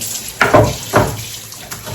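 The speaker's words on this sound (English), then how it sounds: "And then you just want to rinse it off with water." Tap water running over a wooden cutting board, a close, fairly loud splashing rush with a couple of heavier bursts as the board moves under the stream.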